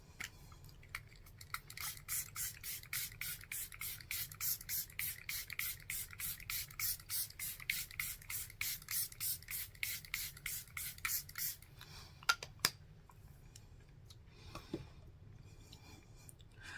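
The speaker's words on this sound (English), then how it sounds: "And now I'm going to spray my face." A face mist spray bottle spritzed onto a face during a makeup session: a rapid, steady train of short hissing bursts for about ten seconds, close and fairly loud, then quiet.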